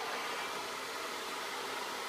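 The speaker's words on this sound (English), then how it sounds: "another assistant that's going to run the hairdryer to heat this up" A hair dryer heating upholstery fabric on a vintage chair blows in a steady, loud whoosh of air with no pauses.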